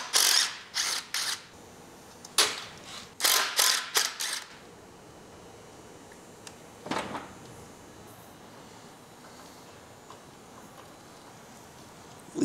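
A ratchet works on brackets on a neglected Willys Hurricane engine during teardown. Bursts of quick clicking come in the first few seconds, then a single later burst, over a quiet workshop background.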